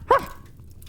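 A person imitates a small dog with a single short, high yip-like bark near the start, followed by quiet room tone.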